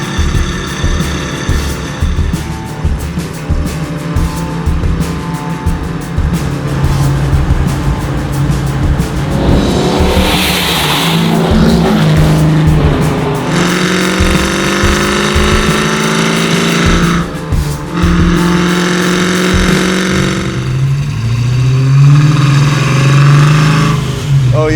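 An 800 hp Procharged LT4 supercharged engine in a 1968 Chevy Camaro drives past, loud and close, with sustained engine roar and repeated rising revs carrying a steady supercharger whine throughout.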